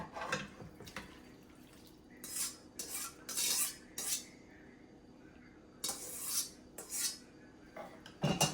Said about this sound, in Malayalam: ഇനി അങ്ങോട്ട് പതുക്കെ മിക്സ് ചെയ്ത് കൊടുക്കാൻ പോവുകയാണ്.